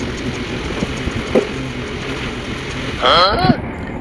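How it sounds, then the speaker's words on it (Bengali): A train runs along the railway line with a continuous rumbling, rattling drone and wind rush, and a short rising tonal sound near the end. "ট্রেন ছুটছে, রেলগাড়ি"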